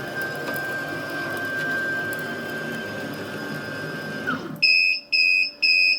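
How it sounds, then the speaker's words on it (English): A Carvera Air desktop CNC machine hums steadily, then its running noise cuts out and three loud, evenly spaced electronic beeps sound as it pauses for a tool change. "it's beeped at us and stopped the machine"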